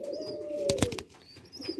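A young Mukhi breed pigeon gives a short, close coo with a brief soft call after it.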